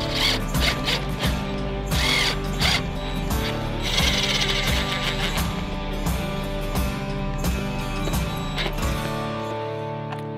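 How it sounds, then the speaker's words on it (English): Screws are driven into the sole of Red Wing Iron Ranger boots with a power driver, making a loud, continuous mechanical whir with even, repeating pulses. It is close up, with no voices. "we're going to go ahead and put the screws in the bottom of the sole"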